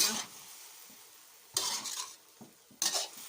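A spatula scrapes and tosses a sugared mixed-vegetable stir-fry in a sizzling pan in three distinct close bursts of clatter and hiss, with quieter sizzling in the pauses between them.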